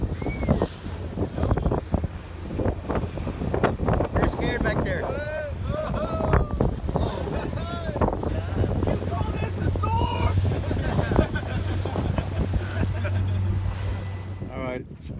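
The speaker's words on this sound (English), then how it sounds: "It's real windy now." Strong wind on Lake Mead buffets a fishing boat, making constant rough gusting noise against the microphone, with water sloshing beneath and people talking close by throughout.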